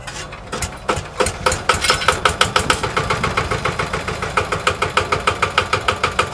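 A coffee-farm tractor engine in second gear runs steadily close by, its rapid, even chugging pulses loud and continuous, with a brief rougher start before settling into a regular mechanical rhythm.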